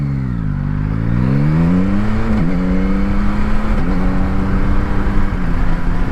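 Yamaha MT-09 SP motorcycle with adjusted Öhlins rear shock accelerating, its engine note climbing steadily in pitch through the gears, loud and close with a constant drone and no talk.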